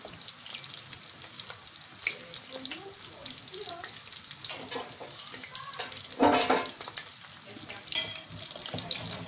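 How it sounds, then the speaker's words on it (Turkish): Sausage toothpick börek wrapped in yufka pastry frying in hot oil, a soft steady sizzle and crackle with a brief louder burst of bubbling partway through, recorded close in a kitchen. "Bunlar biraz kızarmaya başladı."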